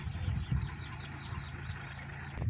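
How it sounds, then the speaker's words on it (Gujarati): A tractor engine idles beside an onion field, a low, steady rumble that stays constant and faint throughout. "ટ્રેક્ટર આવી ગયું છે."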